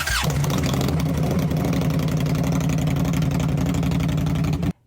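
Motorcycle engine running steadily at close range, a continuous loud low rumble with a harmonic drone that holds for nearly five seconds before cutting off abruptly at the end.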